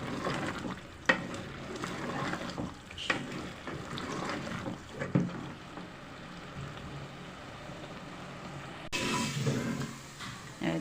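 Spiced pumpkin curry being roasted dry in a pan, a continuous close sizzle broken by repeated scraping strokes of a spoon stirring through it, growing louder near the end, with no one talking.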